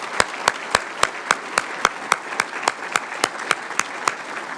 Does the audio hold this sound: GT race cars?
no